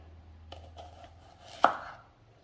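An onion is cut with a knife for onion pickle, giving a few soft, separate chops over a quiet kitchen hum, with one louder cut near the end.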